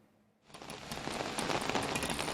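Heavy summer rain falls across Tamil Nadu, starting abruptly after a quiet moment and building into a steady, dense, hissing downpour close by.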